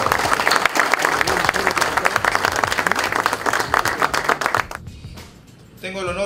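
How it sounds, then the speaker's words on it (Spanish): Audience applause at a graduation ceremony for a security-guard training course, dense steady clapping at close range that runs for about four and a half seconds, then drops away into a short lull before a brief burst of noise returns. "Fuerte las palmas entonces"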